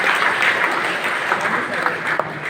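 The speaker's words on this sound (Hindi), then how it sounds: "तालियां थोड़ी कम बज रही हैं," Applause from a crowd at a university meet-up of civil service toppers, dense continuous clapping at moderate volume with voices mixed in underneath.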